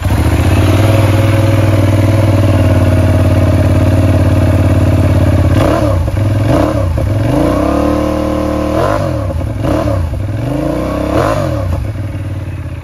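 A Benelli Leoncino 800 motorcycle from 2022 idles loudly up close, its steady engine rumble broken by several sharp throttle blips that rise and fall, with no talk.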